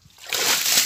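Cold water is poured over a person's head in a quick, close splash that swells from a trickle into a loud sloshing rush lasting under a second.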